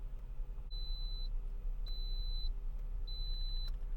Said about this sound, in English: I'm going to select pressure cooker. Then I'm going to select 3. So it's going to beep.